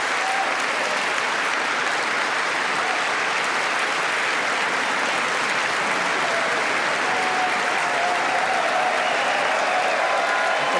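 A large audience of US Congress members applauds King Charles' address, a dense, loud, sustained wash of clapping that holds steady throughout with no pauses.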